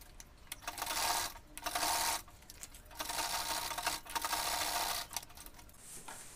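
A sewing machine top-stitches Ankara fabric for a tote bag, running in several steady bursts of rapid stitching separated by short pauses.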